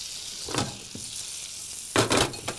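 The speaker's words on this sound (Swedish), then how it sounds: "Då tänker jag steka dem i smör då." Butter sizzling and spitting in a frying pan, with bursts of crackle as food is added or stirred, close and fairly loud over a steady low hiss, no one talking.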